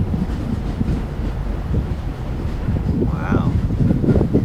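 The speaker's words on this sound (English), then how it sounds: "There is a freight train on the the New Jersey Transit Bridge." A freight train rumbles across the New Jersey Transit bridge on the North Coast commuter line, a steady low roar with a brief metallic squeal partway through, buffeted by wind noise on the microphone.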